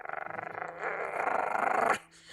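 A dog in a video game snarls and growls in rough, pulsing bursts, louder toward the end before cutting off, with faint background tones.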